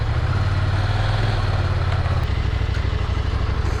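A motorcycle engine idles close by, a steady low rumble with a slight change in tone partway through, running without pause.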